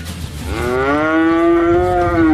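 A cow moos on a farm, one long drawn-out low call that swells and holds steady, loud and close with no talking.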